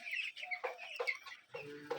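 Broiler chickens in a farm shed cluck in short, overlapping bursts close by, quick bright calls from several birds over about two seconds, with no voices.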